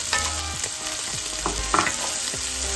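Chorizo frying in a pan with garlic and onions, a steady hiss of sizzling oil and juices broken by repeated scrapes and knocks of stirring, close and fairly loud, with no voices.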